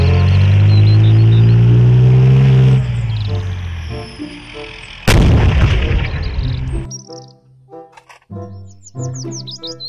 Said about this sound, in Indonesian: Mobil tank baja.